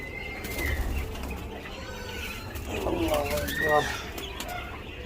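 Birds on a small bird farm coo and call close by, with some wing flutters and a few higher chirps over a steady background hum.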